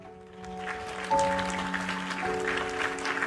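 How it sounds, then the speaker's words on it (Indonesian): Indoor audience applause builds from a soft start into steady clapping, heard with faint sustained tonal hum and low murmur underneath. "tepuk tangan dulu kalau gitu"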